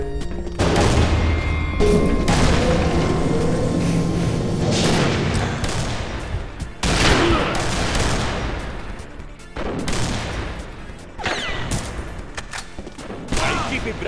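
Loud video game gunfire and booming blasts burst repeatedly in a chaotic firefight, with sharp individual sniper shots standing out amid the noise.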